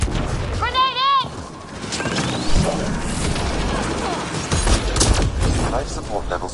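A grenade blast and bursts of gunfire in the Mass Effect Andromeda video game, with dense, continuous combat noise, a rising electronic whine early on, and voices calling out over the fighting.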